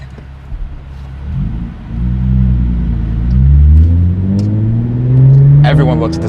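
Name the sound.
Hyundai Genesis Coupe 3.8 R Spec straight-pipe engine revving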